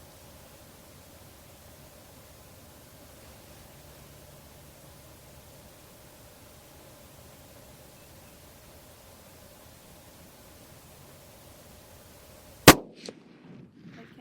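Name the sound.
Remington 700 30-06 rifle gunshots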